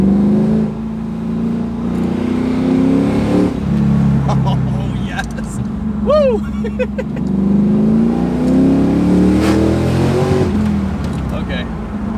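Modified Trans Am WS6 engine droning and rising under throttle from inside the car, a deep steady rumble swelling and falling, with an excited voice calling out over it and brief whistling tones.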